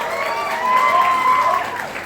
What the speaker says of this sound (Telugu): వీళ్ళిద్దరికి గట్టిగా చప్పట్లు కొట్టండి ఒకసారి.